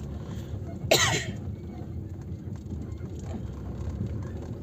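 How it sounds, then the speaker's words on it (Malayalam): A single sharp cough rings out near the mic, followed by a short throaty trail, over steady low background rumble. "ചുമ പിടിച്ചിരുന്നു, ചുമ"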